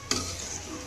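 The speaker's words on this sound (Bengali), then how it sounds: "আমার এই যে ঝোলটা কিন্তু ফুটে উঠেছে" Curry gravy simmers in a covered pot, a soft bubbling hiss after a brief knock of the lid, quiet and close.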